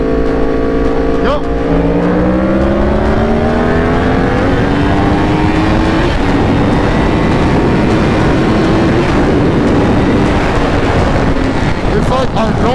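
A Yamaha R1 superbike accelerates hard, its engine note climbing steadily through the revs in a loud, continuous roar that stays close with strong wind rush.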